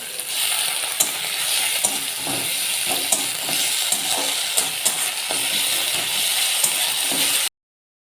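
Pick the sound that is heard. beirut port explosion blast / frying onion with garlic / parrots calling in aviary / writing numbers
frying onion with garlic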